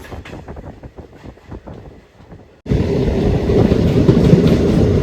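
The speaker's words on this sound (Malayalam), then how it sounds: "ഈ ഒരു പ്രകൃതിയുടെ ഉള്ളിൽ ഇത്രയൊരു ഭംഗിയായിട്ടുള്ള സ്റ്റേഷനിലേക്ക് നമ്മുടെ ട്രെയിൻ കയറിക്കൊണ്ടിരിക്കുകയാണ്" A train rumbles along with clicking wheel beats, then the sound abruptly swells into a loud, steady roar and rattle as it enters Muthalamada railway station in Kerala.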